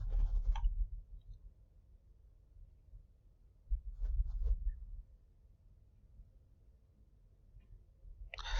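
A computer mouse clicks while saving a PowerPoint presentation. A few sparse, faint clicks sit in an otherwise quiet room, spaced seconds apart.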